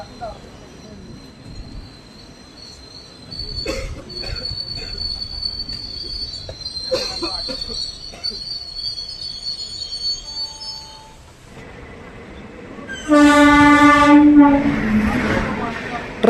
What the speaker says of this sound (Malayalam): ട്രെയിൻ അങ്ങനെ ചെയ്തപ്പം വെസ്റ്റ് ഹിൽ റെയിൽവേ സ്റ്റേഷനിൽ നിന്നും വീണ്ടും പുറപ്പെട്ടിരിക്കുകയാണ്.